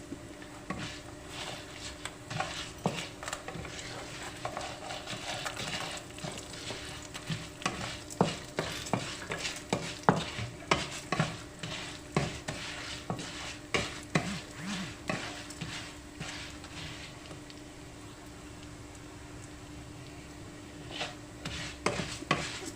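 Tamarind and dried red chilies fry in a pan for mint chutney, giving a soft continuous sizzle broken by steady rhythmic scraping and stirring strokes, close and moderately quiet without speech.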